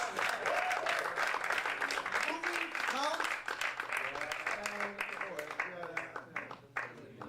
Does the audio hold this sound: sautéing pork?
no